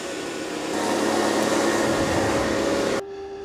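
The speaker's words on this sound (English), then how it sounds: "it's gonna vacuum that area again" A Dreame robot vacuum running over a floor area: a loud, steady whirring hum that swells slightly, then cuts to a quieter tonal drone near the end, with no talk.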